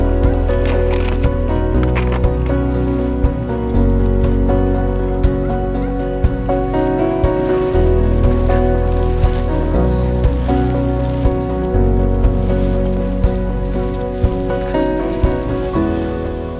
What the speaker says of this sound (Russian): Он то чуть-чуть успокаивается, потом начинается прям жесткий ливень.